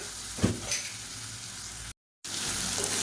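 Boiled potatoes fry in a pan with a steady close sizzle and a brief stir, the hiss broken by a short gap of silence partway through.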